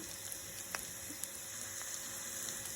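Oil fries in a pan while soya chunks rice cooks, giving a faint, steady sizzle with scattered small pops and crackles throughout and no voices.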